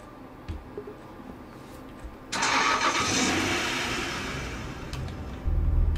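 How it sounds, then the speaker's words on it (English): In the Roblox Driving Empire video game, an Acura car engine starts with a sudden burst of noise that settles into a steady mid-pitched idle hum for several seconds, with a thump near the end. "oh, this is the Acura."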